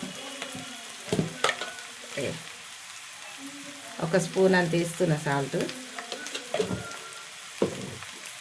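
Tomato chutney fries in a pan while being stirred, giving a soft sizzle with intermittent scraping strokes close by, as someone talks over it.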